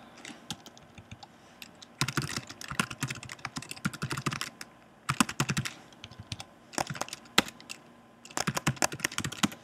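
Python code is typed on a computer keyboard in quick bursts of close, crisp key clicks separated by short pauses, with no talking.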